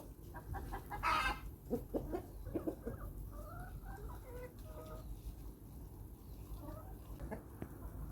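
A laying hen clucks loudly and repeatedly in rising, insistent cackles around egg-laying, close by, with soft background rustling and no talking.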